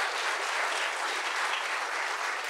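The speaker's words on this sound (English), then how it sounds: "I just want to applaud them for what they've done and for coming out here for us" A forum audience at a New Mexico bipartisanship award event applauds in a smooth, even wash of many hands clapping, moderately distant and steady without a break.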